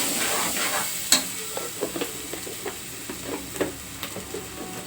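Ginger-garlic paste and onion masala frying for a country chicken curry, a soft continuous sizzle under repeated sharp clicks and scrapes of a spoon stirring the pan, close and without talk.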